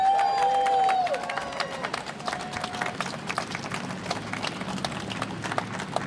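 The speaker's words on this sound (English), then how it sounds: "So please make a big round of applause for him." Crowd applause and cheering at an outdoor rally for January 6 defendants outside the DOJ in Washington, DC: dense, continuous clapping with a brief tonal whistle-like note at the start, sustained throughout.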